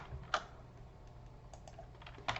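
Keys on a computer keyboard are tapped in a few quiet, sparse clicks, recorded close by over faint background hum.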